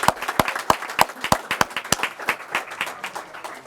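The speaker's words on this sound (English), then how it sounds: "please, another round of applause for these two great speakers" Applause from the audience at a Lee County Republican Party dinner, honoring two guest speakers: a moderate crowd of separate, sharp hand claps, fairly close and uneven, thinning slightly toward the end.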